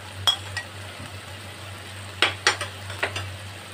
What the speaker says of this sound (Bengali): দিয়ে উচ্ছেটা খুব ভালো করে মিশিয়ে দেব